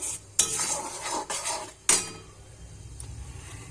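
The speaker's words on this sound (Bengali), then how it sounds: "এবার ভালো করে কষিয়ে নেব মশলাটা।" A utensil stirs and scrapes spice paste frying in a pan for a Bengali jackfruit and prawn dish, with three sharp metallic clinks over a soft sizzle and no talk.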